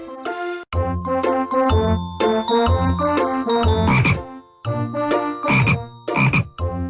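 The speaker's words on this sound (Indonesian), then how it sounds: "Lihat, sepasang katak sedang di pinggir sungai." Frogs croaking at a riverbank, a dense chorus of loud, close, tonal calls with repeated ringing croaks and bursts that overlap almost continuously.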